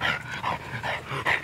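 French bulldog puppies panting and whimpering up close, quick breathy pants with thin little whines in a short uneven rhythm.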